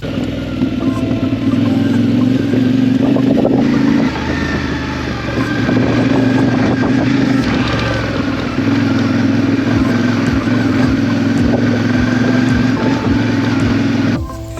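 A CF Moto 450MT adventure motorcycle, a 450 cc engine of about 40 horsepower, runs at a steady idle close by, with a low even drone and a brief dip in note partway through.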